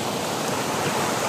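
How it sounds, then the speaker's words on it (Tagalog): Strong stream water rushes loudly and steadily, a dense unbroken roar with no pauses and no voices, heard during a clearing trip heading downhill. "Sobrang lakas ng tubig mga tol."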